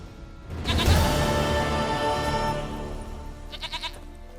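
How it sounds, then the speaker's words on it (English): Goat bleating in the Witcher 3 video game, a loud, wavering bleat that swells and holds for a couple of seconds, then trails off into a few shorter, fainter bleats. "Goat of mine, dearest, sweetest goat."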